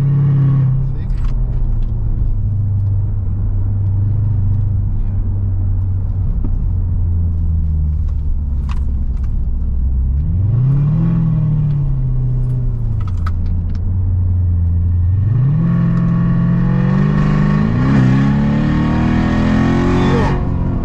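Chevrolet Corvette C7 driving on the Kakucs Ring race track, its engine a loud, deep rumble that climbs in pitch through two strong revving pulls, heard from inside the car with people talking over it.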